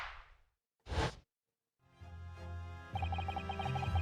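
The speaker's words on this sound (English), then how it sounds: "The Venus special that you sell for 600 pennies sounds like this." A Venus special firework goes off in a video game as a single short, sharp burst after a quiet swish, followed by a sustained tonal hum.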